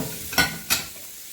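Bacon and sausage frying together in a pan, with a soft steady sizzle broken by two quick scraping stirs, close and alone.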